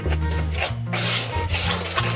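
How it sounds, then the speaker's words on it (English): Whisk scraping and rustling through flour, baking soda, baking powder and salt in a bowl, close and fairly loud with quick repeated rubbing strokes and a low hum beneath. "I'll whisk all those dry ingredients together."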